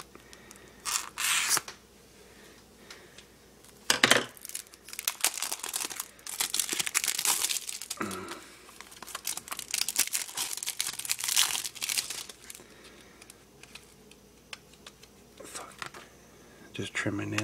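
Plastic packaging being torn and crinkled open by hand during an unboxing of Hatchetgear gear, with bursts of loud crinkling, ripping and snipping between pauses, under occasional talk.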